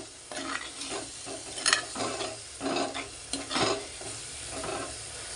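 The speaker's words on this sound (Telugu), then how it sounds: "ధనియాల పొడి 1 table spoon, garam masala 1 table spoon వేసి కలుపుకుందాము" Tripe curry in a clay pot being stirred after coriander powder and garam masala go in, with repeated scraping strokes of a spoon over a soft, continuous sizzle; nobody speaks.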